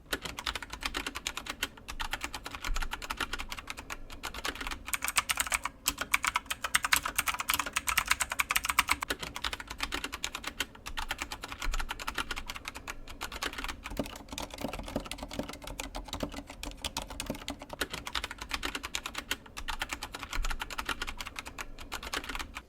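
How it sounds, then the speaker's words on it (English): Steady, fast typing on a Velocifier TKL01 tenkeyless mechanical keyboard with Zorro Brown switches, dense clicky keystrokes close up running continuously for over twenty seconds with occasional brief pauses, no voices. "so that you can hear a difference between Zorro Brown switches and things like Cherry MX Silents or some Otemu Blues"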